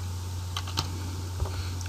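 Keys clicking on a computer keyboard while data is entered into an Excel form, a few quiet separate taps and short bursts close by over steady background hum, with no talking.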